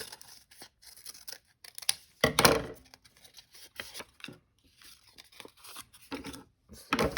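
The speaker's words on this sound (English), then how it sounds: "So I'm going to cut out these two little hearts." Scissors snip paper close by while paper hearts are cut out, a run of quick irregular crisp cuts with a louder rustle of handled paper near the start, no talking.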